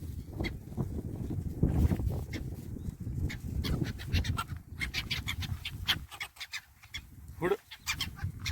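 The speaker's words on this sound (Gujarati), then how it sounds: "આ એક કૂતરું બહુ હેરાન કરે છે" A dog pants nearby in quick, breathy bursts that grow clearer in the second half, over a murky outdoor background of low rumble and other animal sounds.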